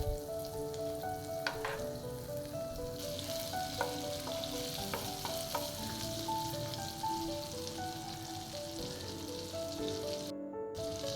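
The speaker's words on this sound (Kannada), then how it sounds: "ಅದೇ ಪಾನ್ಗೆ ಪುನಃ ನಾನು ಬಟರನ್ನು ಆ್ಯಡ್ ಮಾಡ್ಕೊಳ್ತಾ ಇದ್ದೇನೆ." Butter and oil bubbling in a frying pan, a continuous dense sizzle with fine popping and occasional light clinks, steady and close for the whole stretch, with no voices.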